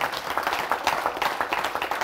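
A church congregation clapping together as an offering of praise to the Lord during a worship service, a fairly quiet, rhythmic patter of many hands continuing steadily for a couple of seconds.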